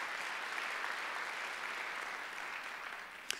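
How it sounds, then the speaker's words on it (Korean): Sustained applause from a church congregation at a Sunday worship service, broad even clapping at moderate level from a sizable crowd, with a single sharp clap near the end. "믿는 사람만 박수 쳐보세요"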